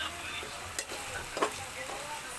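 Chicken estofado being stirred in a frying pan, with soft scraping of the spoon under a steady, quiet sizzle.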